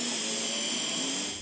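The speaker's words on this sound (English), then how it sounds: "I'm gonna start drilling my pilot hole, trying to stay as straight on the work as possible" A power drill bores a pilot hole in the differential cover of a 1995 Ford F150, a loud steady whine held for over a second and tapering off at the end.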